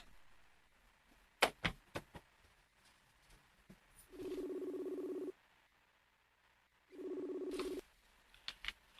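A telephone placing a call: a few quick clicks and taps, then two long, steady electronic tones separated by a pause, faint and alone.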